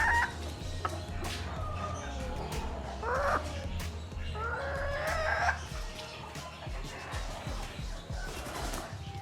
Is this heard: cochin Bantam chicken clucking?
yes